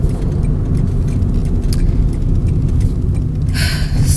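Road traffic with cars rolling past, a steady loud wash of engine and tire rumble filling the whole span, with a brighter hiss from a car sweeping close near the end.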